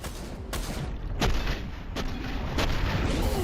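Gunfire in the shooter game Sprawl, about four sharp shots spaced roughly a second apart, each with a quick burst of energy, over a steady bed of game noise.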